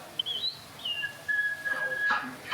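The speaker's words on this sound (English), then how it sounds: "Suddenly, the treetops explode in a frenzy of outraged birds." Birds in a jungle river setting burst into calls: thin whistled chirps and a long sustained tone, followed by sharper squawks, moderately loud over a low background murmur.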